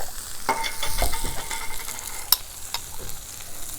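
Garlic sizzles and is stirred in a hot pan in a pizza oven, a close crackling fry broken by scraping strokes and a sharp utensil tap.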